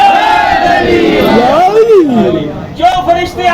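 A large crowd at a religious gathering shouts slogans in unison, a loud swelling roar of voices that rises, peaks and then breaks into a second burst of chanting.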